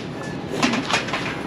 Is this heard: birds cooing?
yes